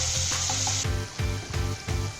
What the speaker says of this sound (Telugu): సో ఇవన్నీ బాగా ఫ్రై చేసుకోండి.